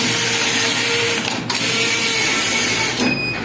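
An industrial fabric knitting machine running with a steady loud mechanical whir and rattle, its carriage sliding back and forth with a couple of sharp clacking reversals, no speech.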